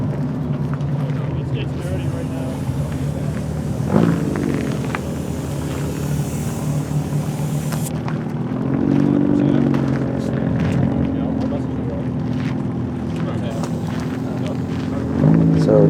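Race cars, including a race-prepared fourth-generation Camaro on race tires, run laps on a circle track. Their engines drone steadily and loudly throughout, with passing swells near the start, the middle and the end, and someone talks over them.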